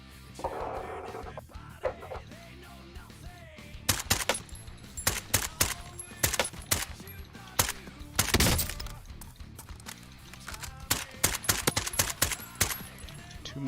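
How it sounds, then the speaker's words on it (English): A VAL rifle fitted with mods as a marksman rifle fires in a video game, a rapid series of sharp, loud gunshots in irregular bursts, each cracking close and decaying quickly. "I put the mods on the Val to turn it into a marksman rifle"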